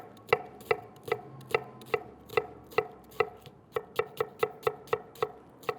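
Knife chopping through onion and Savoy cabbage on a board, about sixteen crisp evenly spaced strokes that speed up toward the end, close and clear with no talking.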